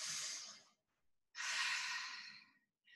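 Two deep, airy breaths drawn in and let out during a flexibility fitness class, the second longer and fuller, with a pause between them and a third breath starting at the end; close and fairly soft, with no talking.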